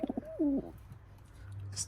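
A sick pigeon coos close by indoors near a keyboard, a short rising-falling call preceded by a few soft notes, followed by quiet room noise.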